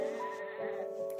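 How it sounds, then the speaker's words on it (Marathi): A sheep gives one long, quavering bleat up close, steady and clear without any speech. "शीप म्हणजे मेंढी"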